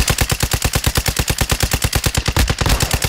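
Rapid automatic gunfire from Call of Duty: Modern Warfare II DMZ on Ashika Island, a loud, steady stream of evenly spaced shots that runs for about three seconds and grows rougher near the end.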